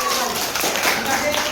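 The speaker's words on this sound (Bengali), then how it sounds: "হাততালি।" Applause at a primary school prize ceremony in Sardaha Golapnagar: a dense, steady burst of clapping from a crowd, brief and fairly loud, with voices mixed in.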